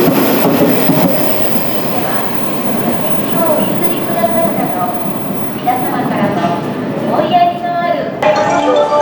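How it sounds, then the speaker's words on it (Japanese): A Hanshin Electric Railway train passes through a station platform, a loud rumbling roar with squealing wheels and clatter, while a voice speaks over it. "まもなく電車が通過します。"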